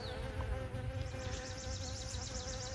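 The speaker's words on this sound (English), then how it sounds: "there's still some poppies blooming here, and the bees just love them" Bees buzz around blooming poppies in a garden, a soft continuous hum of several insects close by, with no talk over it.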